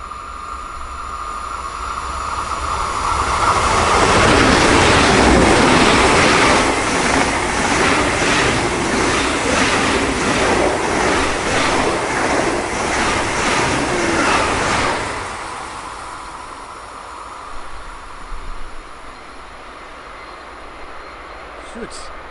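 A freight train rolls past on the opposite track at a station in Aschaffenburg, a loud broadband roar that swells in, holds with rhythmic clatter of wagons over rail joints for about twelve seconds, then fades away.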